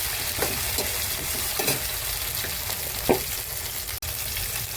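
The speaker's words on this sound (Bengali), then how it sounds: "এবার ভালো করে নাড়াচাড়া দিতে হবে।" Torkari frying in a pan while being stirred, a constant close sizzle overlaid with rhythmic scrapes of a spoon against the pan and one brief sharp knock near the end.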